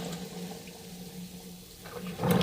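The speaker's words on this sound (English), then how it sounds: "We'll just mix the olives about just before we empty the water." Water being poured off olives soaking in brine, a steady close pouring and splashing of liquid that grows louder and fuller toward the end, with no talking.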